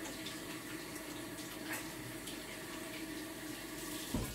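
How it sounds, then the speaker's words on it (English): Water from a tap runs steadily into a sink during a quick hand wash in a kitchen, a soft continuous splashing rush heard close with no voices. "Now, quick wash of the hands."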